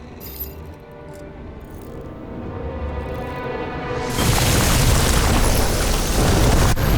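In the game Nobody Wants to Die, a flooded transformer bursts into a loud, roaring explosion that builds out of a low rumble and then sustains as a dense wall of noise.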